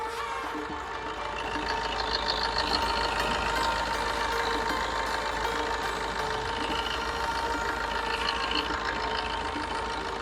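A 2019 Maruti Ertiga diesel engine idles steadily with an even, continuous low rumble and a faint mechanical clatter, close by and with no talking.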